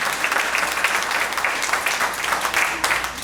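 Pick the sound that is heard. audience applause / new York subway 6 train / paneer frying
audience applause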